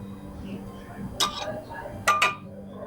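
A spoon scrapes and clinks against a plate while pasta sauce is scooped out in a New York pasta shop, two or three short, bright metallic taps over a quiet room hum.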